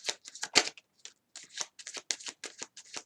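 Tarot deck being shuffled by hand, a quick run of crisp riffling card flutters in close, evenly spaced bursts with short pauses between them.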